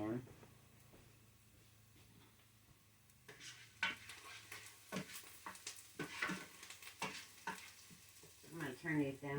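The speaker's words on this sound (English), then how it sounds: "Now let me go and stir these onions again." Onions caramelizing in a pan, stirred with a quiet sizzle underneath, while someone talks over much of the clip and scraping strokes come through between her words.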